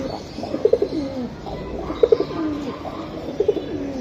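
Male pigeon cooing at a Bangladeshi pigeon seller's, three soft rolling coo phrases spaced about a second and a half apart over a low background murmur, close by and moderately loud.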